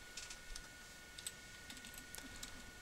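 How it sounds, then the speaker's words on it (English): Light typing on a computer keyboard, a few quiet scattered keystrokes tapping away faintly over a steady background hum. "So we type in the average"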